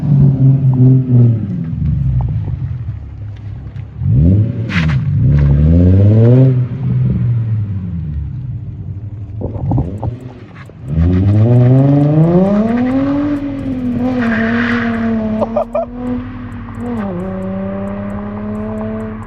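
A Nissan 350Z engine with a single-exit exhaust revs hard repeatedly, its exhaust roaring and rising in pitch, then dropping back, loud and close.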